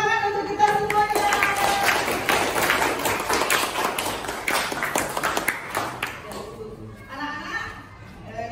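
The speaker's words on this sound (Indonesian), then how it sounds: "tepuk tangan untuk kita semuanya" A room of children applauding their teacher after a classroom story, a dense burst of clapping from about one to six seconds that fades out, followed by an adult voice speaking.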